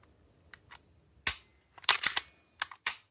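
An HK VP9 pistol with its magazine inserted is dry-fired, giving a scatter of crisp, close metallic clicks and snaps, some single and some in quick pairs, separated by near silence.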